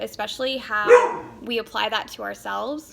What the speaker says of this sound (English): That's my dog. I think she's hearing people outside.